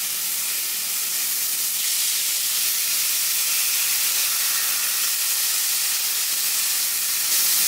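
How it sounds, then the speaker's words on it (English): Carne asada steak sizzles on an oiled grill with a loud, steady, close hiss that runs unbroken through the whole stretch, with no voices over it. "Listen to that sizzle."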